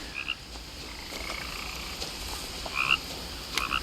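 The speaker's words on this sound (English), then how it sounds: "You're a very loud frog." A frog in the video game What Remains of Edith Finch croaks loudly in short bursts, standing out clearly against a quiet outdoor ambience. No one speaks.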